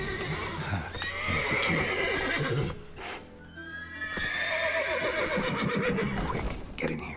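Horses in a stable in the video game Witcher 3 neigh and whinny in repeated loud bursts over shuffling hoof clops, while someone speaks briefly in between.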